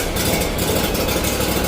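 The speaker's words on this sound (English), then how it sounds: "we're going to go ahead and get it on high idle in here just to see if we can replicate it" A Scag Cheetah II FX1000V mower's EFI engine held at high idle, a steady close rumbling drone with no talking.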